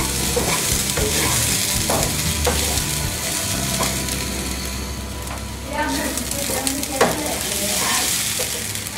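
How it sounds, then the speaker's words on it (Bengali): Rice for traditional Old Dhaka haji biryani being stirred and fried in a pot gives a steady rustling sizzle with repeated scraping strokes of the spoon, close and continuous, with faint background voices. "এভাবে নাড়া দিলে একটা শনশন শব্দ হবে।"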